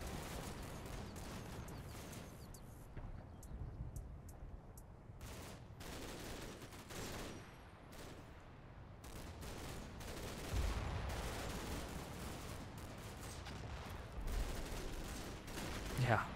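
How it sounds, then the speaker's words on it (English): High explosive rounds pound a target in the Combat Mission: Black Sea game: a dense, continuous barrage of overlapping blasts and gunfire, with heavier booms rising toward the end. A voice talks over the barrage. "a lot of high explosive rounds being put onto that target now"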